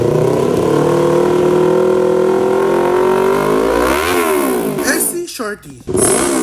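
A Kawasaki Z500 motorcycle fitted with a V-Lane Shorty muffler revs up close and loud, with a sustained rising exhaust drone, a swell and dip of the throttle, then sharp blips at the end.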